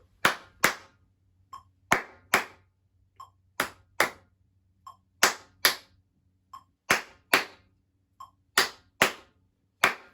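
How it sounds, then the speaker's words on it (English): Students clap a counted rhythm together in a classroom music lesson, sharp unison claps in short groups with pauses between, some softer single claps, no talking. "Let's all count and clap that together"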